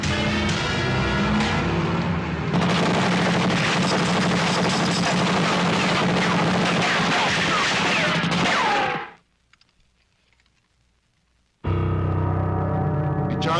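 Heavy gunfire from a shootout in a Tagalog action movie, with dense rapid bursts and blasts layered under loud action mixing for about nine seconds, then a brief near-silent gap before the loud scene sound returns.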